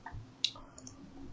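A computer mouse gives a couple of short, sharp clicks close to the microphone, isolated against a quiet room with no speech.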